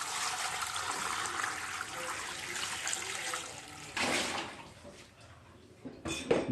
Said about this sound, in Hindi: इसमें हम डाल रहे हैं हम पानी।